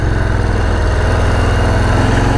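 A 2021 Harley-Davidson Street Bob 114 motorcycle engine idles with a steady, loud, low throbbing rumble, close and unbroken with no talk over it.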